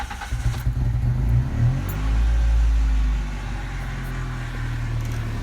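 A modified Toyota Celica VVTi engine idles, then revs up in a loud swell and settles back to a steady rumbling run, close by with no voices.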